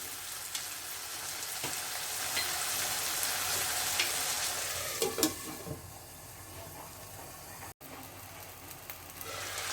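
Chopped potatoes sizzle and fry alongside beef in a pan, a continuous crackling hiss broken by scraping stirs and a few sharp knocks, close and fairly loud.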